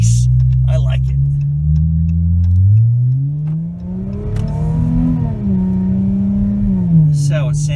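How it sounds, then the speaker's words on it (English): Cabin sound of a Chrysler 300 with a 3.6 Pentistar V6 fitted with a new intake kit, loud intake and exhaust drone rising and falling through the revs while driving. "You can hear the intake and exhaust quite a bit, but it sounds nice."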